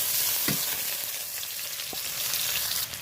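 Chopped onion and garlic fry in hot oil in a wok, giving a loud, constant, close-up sizzle with a couple of soft stirring knocks.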